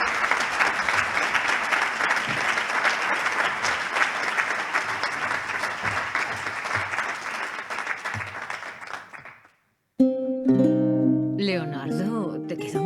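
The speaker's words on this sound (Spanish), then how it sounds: "Un fuerte aplauso para Jesús." A studio audience at a radio history programme applauds loudly in a long, steady wash of clapping that fades out to silence before music begins.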